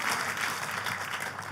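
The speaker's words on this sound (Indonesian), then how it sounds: "Kita kasih tepuk tangan yang meriah buat Tuhan kita." Congregation applause at a church service, a dense steady patter of many hands clapping for the full stretch at moderate level, with no talk over it.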